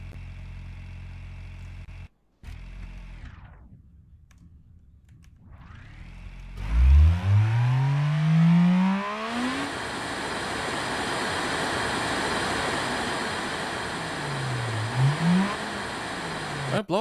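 A simulated turbocharged car engine with swapped big turbos revs up with a rising whine, holds a droning, hissing tone and then dips and climbs briefly again, all fairly loud and steady, with no talking.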